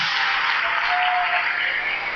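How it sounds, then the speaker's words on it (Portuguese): A church congregation applauds loudly during a worship service, a dense, steady wash of many hands clapping that holds evenly for about two seconds. "Aplaude ao Senhor bem forte."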